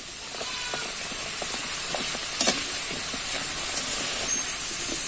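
A flour and egg snack fries in hot oil with a steady, loud hiss and occasional small crackles throughout.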